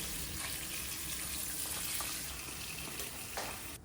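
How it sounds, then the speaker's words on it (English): Water from a tap runs steadily over cauliflower being washed in a kitchen, a constant broadband splashing hiss throughout with faint clatter and no speech. "I personally like to wash my cauliflower with a bit of water"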